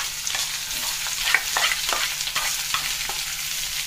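Chopped small onions sizzle steadily in a hot pan for Kerala onion theeyal, with soft scraping and stirring clicks over a continuous bright hiss. No voices.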